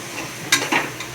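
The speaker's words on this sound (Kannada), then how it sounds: "ಕರಿ ಪೌಡರು, ಧನಿಯಾ ಪೌಡರ್, ಚಿಲ್ಲಿ ಪೌಡರ್ ಎಲ್ಲ ಹಾಕ್ಕೊಂಡು ಮಿಕ್ಸ್ ಮಾಡ್ಕೊಳ್ಳೋಣ" Curry powder, coriander powder and chilli powder stirred in a hot pan for egg curry, giving a short burst of scraping and sizzling with a couple of quick utensil strokes.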